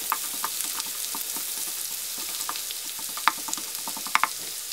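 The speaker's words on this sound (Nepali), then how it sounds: "अदुवा, लसुन र बेसार राख्नुहोस्। राम्रोसँग चलाउनुहोस्।" Ginger, garlic and turmeric fry in a pan for a Nepali dish, a steady crackling sizzle broken by repeated spoon scrapes and a few sharper clicks, close and clear.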